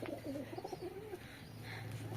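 Low, throaty cooing from a newly brought-in pigeon sounds nearby in a brief burst, then fades into a faint background hum.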